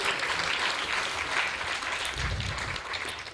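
A temple congregation applauds its Prashadam hall cleaning team, producing a full, even patter of many hands that holds steady for several seconds, with a few scattered voices faintly mixed in beneath the clapping.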